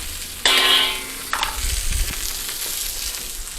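Cauliflower florets and celery drop into a hot keto stir-fry pan with a sudden loud hiss, then a second burst as more goes in, settling into a softer steady sizzle with some clatter of stirring.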